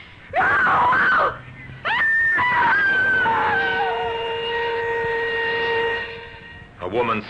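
A woman's loud, drawn-out scream in a radio drama, starting with short shrieks and sliding into a long wailing cry that fades before a final gasping burst.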